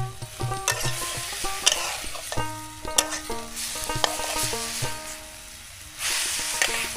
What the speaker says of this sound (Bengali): নাড়া দাও, জোরে নাড়া দাও।